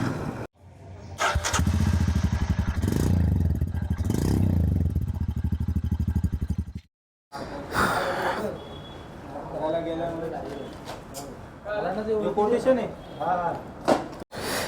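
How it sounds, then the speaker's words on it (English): A Royal Enfield Super Meteor 650 motorcycle engine cranks and runs nearby, a loud steady throbbing idle that cuts off abruptly, followed by someone talking over some rustling. "Let's crank up the engine."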